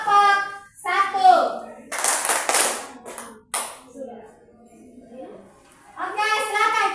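A university classroom gives short bursts of clapping for a student group after its presentation. The claps come in a couple of quick spurts between stretches of a voice talking, with a child-like voice present too.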